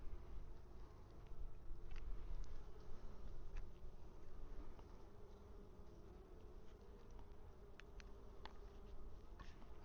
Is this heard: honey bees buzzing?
yes